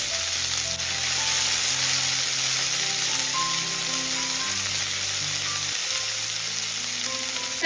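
Salted green mango pieces and a sprig of curry leaves frying in a pan, a loud, close, continuous sizzle with dense crackling, and no one speaking.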